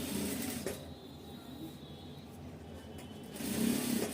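A sewing machine runs steady straight stitches along a blouse placket strip, a low continuous mechanical whir that swells louder at the start and again near the end, with no talking.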